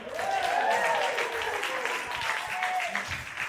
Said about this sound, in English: That applause is really validating